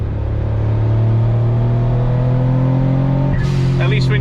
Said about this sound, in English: Makes a lot more noises, turbo noises. Listen to that stuff.